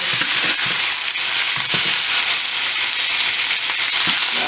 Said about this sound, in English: Now I'm about to put the beef on the stove